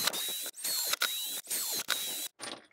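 Cordless drill running on a revived NiCd battery drives a screw in and out, with several short whirring bursts separated by brief pauses, close and loud, with no talking.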